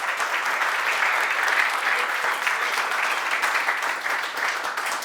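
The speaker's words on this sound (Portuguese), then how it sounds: "Então, salve de palmas de novo pro Anderson." An audience at an informal gaming talk event breaks into sustained applause, a dense, even wash of many hands clapping for about five seconds with no speech over it.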